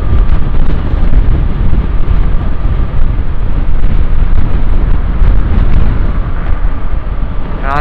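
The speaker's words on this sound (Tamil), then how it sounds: "பைக் தள்ளுற அளவுக்கு இங்க காத்து அடிச்சுட்டு இருக்குது" Strong, steady wind roars and buffets the microphone throughout, loud and continuous, recorded riding a motorbike slowly into a gale on Trichy Road between Somanur and Sulur, Coimbatore.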